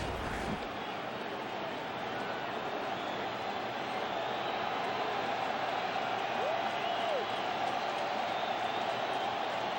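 Rain-soaked crowd at a 2008 World Series baseball game, Rays at Phillies, in Philadelphia: a steady, distant roar of cheering and noise filling the stadium continuously, with no pauses.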